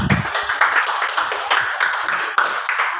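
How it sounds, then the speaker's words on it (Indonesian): A small group in a classroom or meeting session claps for a guest, a brief burst of close, bright hand claps with a few distinct sharper strikes, fairly loud and without speech. "tepuk tangan untuk Bang Haikal"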